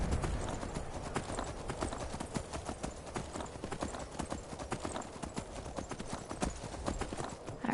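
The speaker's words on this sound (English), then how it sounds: "Alright, well, got this horse." Horse hooves clip-clop in Skyrim at a quick, even trotting rhythm, soft and continuous with no pauses.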